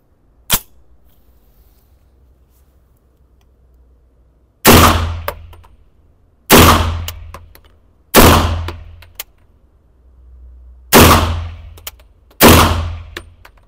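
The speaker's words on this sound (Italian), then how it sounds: "Spariamo altri 5 colpi per vedere dove va il gruppo adesso." Five gunshots fired while testing a VectorOptics Frenzy red dot sight, loud sharp cracks with ringing decay, spaced about one to two seconds apart after a single earlier pop, alone with no talk.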